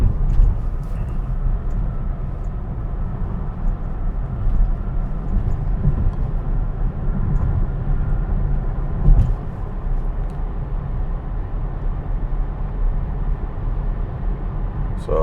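A Tesla running FSD v13.2.9 cruising on a highway, heard from inside the cabin as a steady, even rumble of road and tyre noise with little change throughout.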